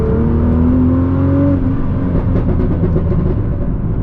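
Loud Nissan GT-R engine accelerating up close, a rising roar that shifts pitch and then settles into a rumbling, crackling growl.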